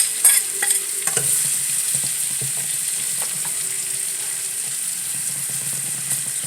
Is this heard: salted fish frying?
yes